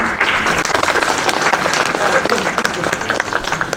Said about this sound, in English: can I please have a round of applause for them